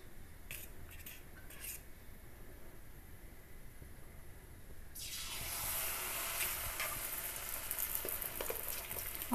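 Banana pakoras drop into hot oil in a kadhai and start a loud, steady deep-fry sizzle after a few light clinks, close by and without talk.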